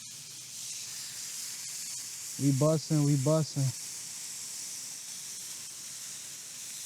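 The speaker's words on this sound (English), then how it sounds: "That thing's sizzling." A steady hiss of food sizzling in a pan runs throughout, close and even, while a person speaks briefly over it midway.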